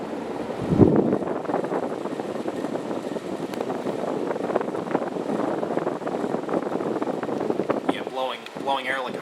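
A Casablanca Four Seasons ceiling fan pushes a steady, broad rush of air close to the microphone, like wind buffeting. A voice speaks briefly near the end.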